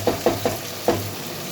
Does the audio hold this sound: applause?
no